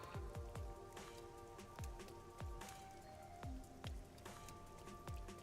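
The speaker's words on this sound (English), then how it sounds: "Man, I cannot believe it's already raining." Steady rain falls in the video game Rain Code, with a dense patter of drops on surfaces and heavier, irregular splashes landing near and loud throughout, no voices over it.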